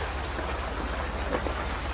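Steady rain falling, a dense even hiss of drops spread across the whole stretch with no voices over it.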